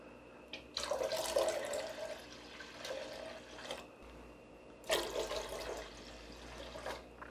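Water poured from a container into a salty pickling brine for chili pepper pickles, two bursts of splashing, gurgling flow separated by a short pause, close and fairly quiet with no talking.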